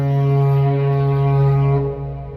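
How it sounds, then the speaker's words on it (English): Deep foghorn blast close by in an audio drama scene, one sustained low droning tone with rich harmonics lasting about two seconds before tapering off. "a nearby foghorn cutting him off"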